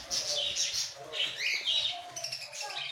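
Small pet birds such as lovebirds and finches chirp and tweet continuously at a bird seller's shop in Madurai, Tamil Nadu, with bright overlapping calls close by and no talk.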